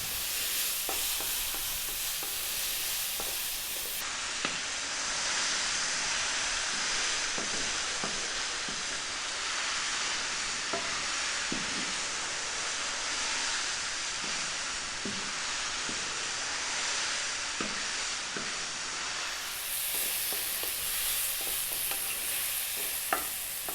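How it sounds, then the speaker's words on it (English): Pork and mushrooms stir-fry over high heat with black pepper, a continuous loud sizzle broken by frequent scraping and clattering of the pan as the food is kept moving. "we're going to go for about another 3 or 4 minutes on this high heat, keeping it moving pretty much all the time"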